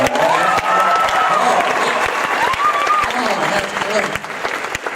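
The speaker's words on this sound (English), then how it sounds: "How about one round of applause for my friend Tim Hawkins right there?" A stand-up comedy audience applauds loudly and continuously, with dense clapping and a voice or two calling out over it.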